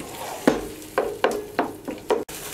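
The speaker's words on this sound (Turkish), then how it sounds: "Kavrulan soğan biber karışım içerisine 2 adet orta boy domatesi yemeklik doğradım. Onları da ekliyorum." Chopped tomatoes fry with sautéed onion and pepper in a pan, giving a soft sizzle broken by several rhythmic scraping stirs, close by and moderately quiet.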